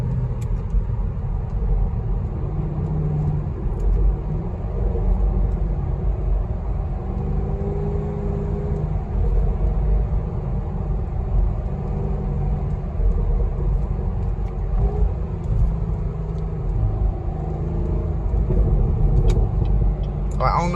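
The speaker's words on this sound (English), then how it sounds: "I don't know if y'all can hear them burbles, but it sounds so good." A Chevrolet SS cruises slowly, its exhaust giving a steady, loud low rumble with faint burbling that runs unbroken for about twenty seconds from inside the car.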